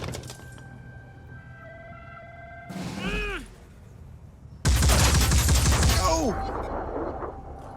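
Gunfire bursts in the tactical strategy game Phoenix Point, a short volley followed by a louder sustained barrage with sweeping whistling tones, set against a humming game soundscape and a player's speech.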